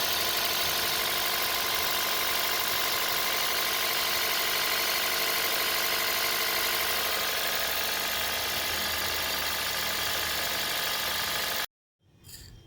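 Toyota Aqua petrol engine idling after a throttle body cleaning, a steady, loud mechanical drone with a faint rattle that runs evenly for most of the clip before cutting off abruptly near the end.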